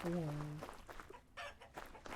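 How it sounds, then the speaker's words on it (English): A chicken clucks in the Vintage Story video game, short close bird calls in the opening half second followed by scattered softer rustling and clucks. "Oh, it's a chicken."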